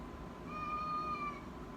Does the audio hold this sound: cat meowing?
yes